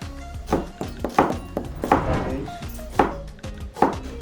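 A knife chops an onion on a cutting board for a Korean stir-fried squid dish, landing about six firm, evenly spaced thunks over a low background, close and with no talking.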